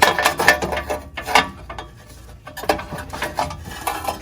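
Wrench and bolt being worked loose from a Porsche Boxster 986 transmission mount, close metallic clinks and ratcheting rattles in short bursts with brief pauses.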